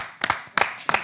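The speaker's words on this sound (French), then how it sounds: "Merci d'accueillir avec des applaudissements notre frère" Audience clapping at a church gathering to welcome a guest, heard as three short bursts of claps, each quickly fading, close and moderately loud.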